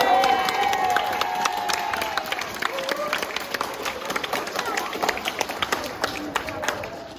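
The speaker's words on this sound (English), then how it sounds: "Give a round of applause to Scott Shoemaker" A school assembly audience claps and cheers for a student, a busy crowd sound with sharp individual claps and voices mixed in, loud at first and easing slightly toward the end.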